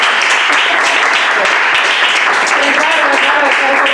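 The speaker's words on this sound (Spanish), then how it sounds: "Un aplauso" Loud, close applause from a small workshop audience at the end of a session, continuous dense clapping with a few voices mixed in.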